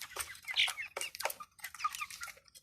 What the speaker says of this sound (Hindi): ये देखो जी, एक मुर्गी है, ये मेरी लाडली है जी